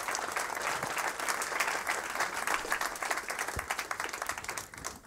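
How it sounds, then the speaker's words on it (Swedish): An audience claps for children at a stage event in Malmö, a lively, crowded patter of many hands with individual claps popping out, holding steady for about five seconds before dipping near the end. "Och så en applåd till barnen"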